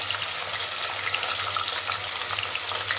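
Small onions and green chillies frying in a pan: a steady, dense crackling sizzle with no break, close and fairly soft over a low hum, without any talking.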